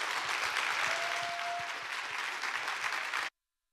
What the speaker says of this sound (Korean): 우리 고성준 목사님 나오실 때 우리 박수로 맞이하겠습니다